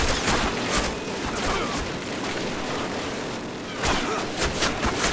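An MP40 submachine gun fires in Call of Duty during a Berlin Reichstag assault, a continuous crackle of rapid shots with bursts swelling near the start and again toward the end over a busy battle backdrop.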